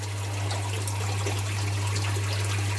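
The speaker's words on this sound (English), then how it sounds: "there's a bit of water come through" Water trickles steadily and softly beneath a constant low electrical hum, with no voices.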